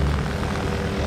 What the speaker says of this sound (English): The helicopter is now approaching.